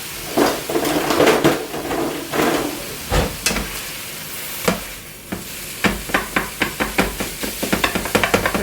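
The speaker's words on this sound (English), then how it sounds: "So we're going to go ahead and chop this up and stir it up." Ground beef chopped and stirred in a frying pan while it sizzles, with a spatula scraping and tapping against the pan in bursts that become quicker and more regular toward the end, close and fairly loud.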